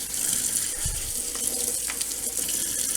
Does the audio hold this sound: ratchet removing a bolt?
no